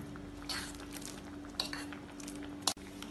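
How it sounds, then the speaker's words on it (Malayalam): Sweet corn is stirred in a pot of boiling curry, a quiet run of spoon scrapes and soft clinks against the pot over a low steady hum, ending in a sharp knock. "ഇത് ഇളക്കി മിക്സ്"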